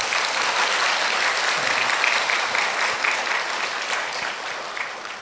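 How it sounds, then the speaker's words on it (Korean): A church congregation at a dawn worship service claps in blessing for two friends, sustained even applause filling the sanctuary from start to finish. "여러분, 수정이 가이 위해서 축복의 박수 한번 해주세요."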